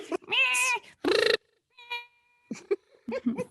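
A person imitates a cat, giving a few drawn-out, wavering meows with short gaps between them, close to the microphone, followed by softer bits of voice.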